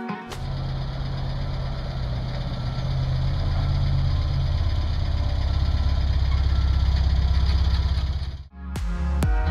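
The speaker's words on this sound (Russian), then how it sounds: "Мощный байк." A powerful homemade custom motorbike idling nearby, a loud, steady engine rumble with a slight rise in intensity, cutting off abruptly near the end before a brief clatter.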